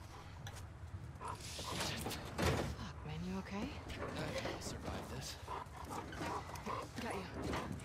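A dog whimpers softly in The Last of Us Part II, a few brief faint whines set against game ambience, creaks and mechanical noises, with voices talking over it.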